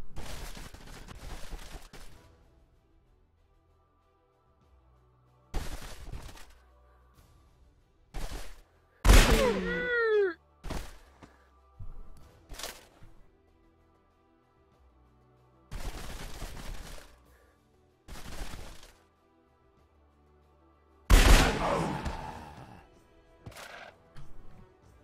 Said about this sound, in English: Can use it to fire because it's a cannon.